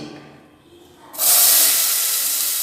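Onions hit hot oil with a sudden loud sizzle after a quiet moment, settling into a steady close hiss that holds to the end.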